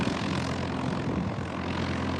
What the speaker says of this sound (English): What a beautiful helicopter that is.